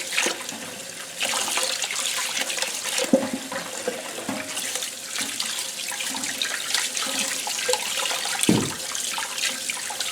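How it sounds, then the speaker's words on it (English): Tap water runs steadily into a sink while pork ribs and chicken are washed, a continuous close splashing stream with occasional louder sloshes and no talking. "We just basically wash the meat really well"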